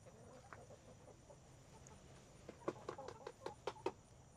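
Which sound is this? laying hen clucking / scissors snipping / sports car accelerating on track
laying hen clucking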